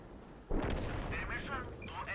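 A tank gun fires in a video game with a single heavy, booming blast partway through, followed by a rolling rumble and crackling debris over a constant engine hum.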